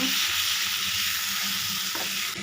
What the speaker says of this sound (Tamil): நல்லா ஃப்ரை பண்ணிக்கோங்க.